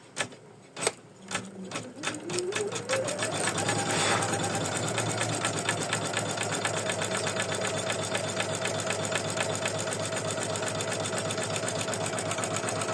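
Embroidery machine stitching a lacy lavender in-the-hoop ornament design, starting with a few separate clunks, then speeding up into a steady, fast, loud mechanical chatter that runs without interruption and with no talking.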